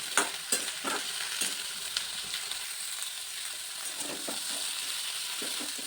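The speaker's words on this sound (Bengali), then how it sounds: "সবজিগুলোকে বেশ করে আমি ভেজে রান্না করে নেব" Potato, brinjal and drumstick pieces fry in a pan, a continuous close sizzle broken by a steady series of spatula scrapes and stirs, with no talking.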